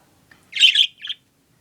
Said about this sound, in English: Oh, good, a chirp.